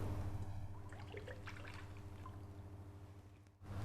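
Oil trickling as it is poured into a mixing bowl for yogurt cheese doughnut batter, a faint, steady liquid pour with quiet background hum.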